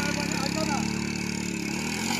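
A vehicle engine runs at a steady idle-like hum on a rural road, continuous and moderately close, with people talking nearby.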